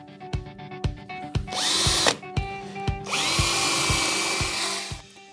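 A power drill bores a pilot hole into chipboard, matching holes in the end panels of a tall multimedia unit, heard as two long close whining bursts with brief revs, sharp clicks and handling knocks between them.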